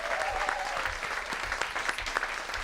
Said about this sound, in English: So give them one more well-deserved hand of applause.